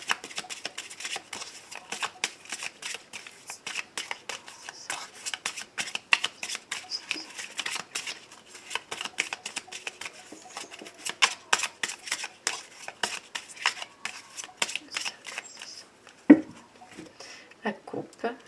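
A deck of tarot cards is shuffled in quick, repeated riffling bursts, close and crisp, then cut with a sharp slap near the end, while a voice talks softly in places.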